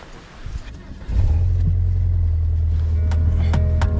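An old Volvo with an automatic gearbox cranks briefly and catches, settling into a loud, low, steady idle rumble close by after about a second of quieter background.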